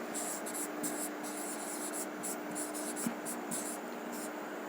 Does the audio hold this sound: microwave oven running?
no